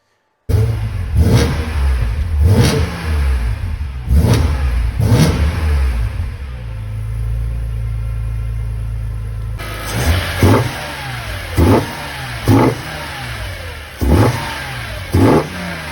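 A BMW engine fitted with an aftermarket carbon-fibre intake plenum is revved repeatedly in a workshop, sharp blips rising and falling in quick bursts, with a steadier idle-like drone through the middle, loud and close with no talking.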